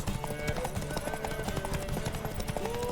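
Horse hooves clip-clop steadily in The Witcher 3, moderately quiet and mixed under background game sounds and occasional voices.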